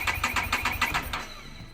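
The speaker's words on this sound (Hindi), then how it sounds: "तो मैं चालू करने का कोशिश किया बाइक को" A motorcycle engine cranks on a first start attempt that fails: about six quick rhythmic chugging pulses, fairly close, then the cranking stops and fades without catching.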